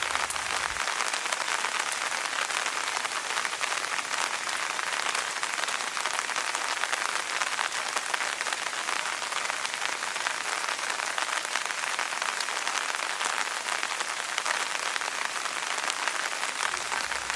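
Steady rain pours down continuously at a wildlife area where tourists shelter under buildings, a dense, even hiss of drops hitting surfaces with no voices, unchanging from start to finish.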